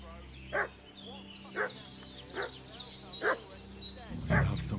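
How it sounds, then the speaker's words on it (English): Dog barking in the medieval video game Kingdom Come: Deliverance II, a run of sharp, fairly distant barks spaced out over a low ambient hum, with a brief rustle near the end. "What's that dog making such a fuss about?"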